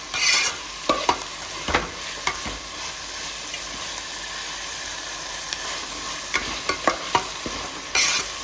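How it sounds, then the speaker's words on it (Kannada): Coriander and mint sizzle in hot oil in a pan with a steady frying hiss, punctuated by several sharp scraping stir strokes throughout. "ಇದನ್ನ ನಾವು ನೀಟಾಗಿ ಫ್ರೈ ಮಾಡ್ಕೋಬೇಕು ಎಣ್ಣೆಯಲ್ಲಿ."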